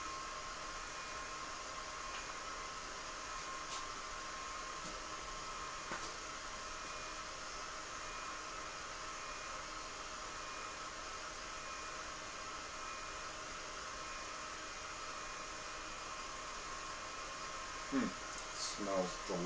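A V1 laser engraver runs in a garage, giving a steady, even whirring hiss like a fan that holds constant throughout, with a few faint clicks near the end.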